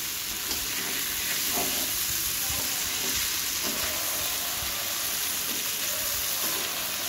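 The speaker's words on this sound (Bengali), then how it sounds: "এইভাবে যদি বেগুনটা আমরা ভেজে নিই" Eggplant slices fry in oil in a pan, turned over as they cook, giving a constant close sizzle with scattered crackles and soft stirring knocks throughout.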